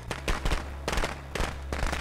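Firecrackers in the Friday the 13th video game burst in rapid crackling clusters, three or four loud volleys over a steady low hum, with no talk.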